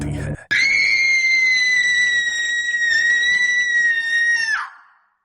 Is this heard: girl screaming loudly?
yes